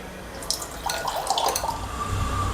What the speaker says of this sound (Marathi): दोन पाण्याने मी स्वच्छ धुवून घेणार आहे